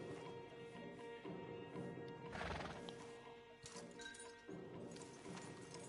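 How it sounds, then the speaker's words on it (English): Stallions in the Red Dead Redemption 2 video game whinny and neigh among clip-clopping hooves, with a couple of prominent neighs midway, all fairly quiet and without speech. "Javier, you're gonna lead the stallions."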